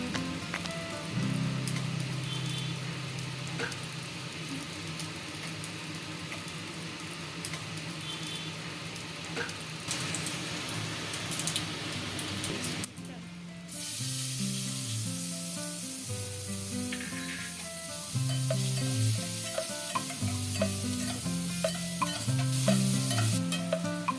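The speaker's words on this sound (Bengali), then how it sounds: "পেঁয়াজ কুচি দিয়ে ভেজে নেব।" Chopped onions and black cumin seeds fry in hot oil in a kadai, giving a continuous bright sizzle with repeated stirring clatter and scraping of the utensil against the pan.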